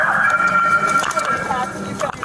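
Ambulance siren wailing steadily at a road scene after a shooting, fairly loud and continuous, with people talking urgently over it.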